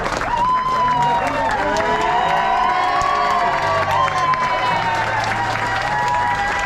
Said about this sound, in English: you guys are applauding